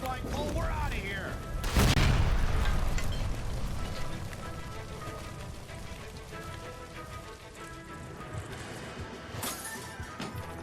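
A gas line explosion in the L.A. Noire video game, a deep booming burst near the start that settles into a steady crackling, rain-like roar of fire and debris, with talk heard over it.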